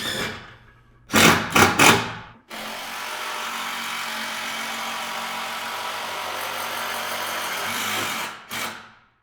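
Power drill driving fasteners into a stair railing post, a couple of short whirring bursts followed by a long steady motor drone and a final brief burst, close and fairly loud.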